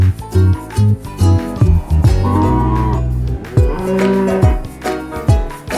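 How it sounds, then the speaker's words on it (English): Cattle moo loudly and close, several deep drawn-out lowing calls in succession with short pauses between them. "Cattle."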